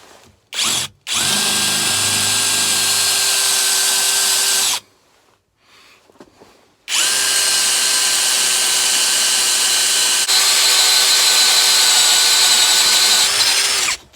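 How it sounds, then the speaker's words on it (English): A power drill bores into wood in two long, loud whirring bursts with a steady motor whine, separated by a short quiet pause and preceded by a quick trigger blip. "Let's get some drilling done."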